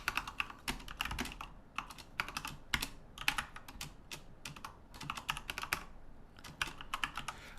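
Rapid bursts of typing on a Commodore 64 keyboard as assembly code is entered, clacking keystrokes in quick uneven runs with brief pauses, close and clear with no voices.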